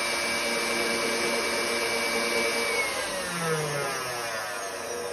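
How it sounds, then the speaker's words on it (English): Cream with powdered sugar is whipped in a continuous, loud motor whir whose pitch drifts slightly as the mixture thickens, with no voices over it. "And then I'm going to whisk it up."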